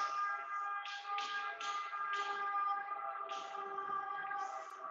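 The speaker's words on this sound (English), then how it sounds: "you must have heard the ambulance" An ambulance siren passes outside during a mathematics lecture, a steady high tone held for several seconds with faint shuffling and tapping nearby, distant and quiet.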